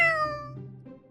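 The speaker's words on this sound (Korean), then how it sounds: "어라? 고양이가 잔뜩 있잖아." A single cat meow, loud and close at the start and trailing off over about a second, with no voices alongside.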